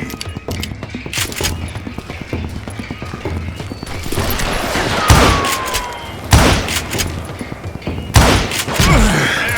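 Gunfire in the Western shooter video game Call of Juarez Gunslinger, with loud bursts of shots and impacts over galloping hooves and a busy game mix, heard without talk.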